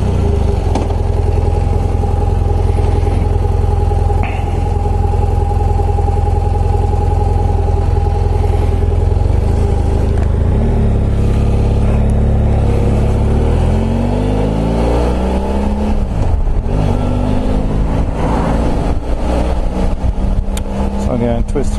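A motorcycle engine on the road gives a loud, continuous drone from a helmet-level perspective, with pitch rising and falling as it accelerates and shifts, under heavy wind noise.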